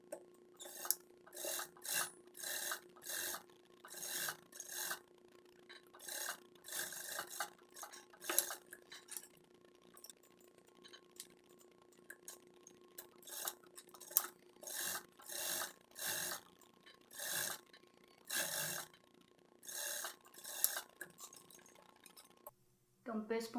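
Straight-stitch sewing machine topstitching a dress facing: quiet, close bursts of rapid mechanical stitching that start and stop in a regular stop-start rhythm over a faint background hum.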